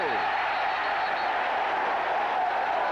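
Stadium crowd roaring and cheering at a 1992 NFL game between the Seattle Seahawks and New England Patriots, a broad steady wall of cheers and applause filling the whole stretch.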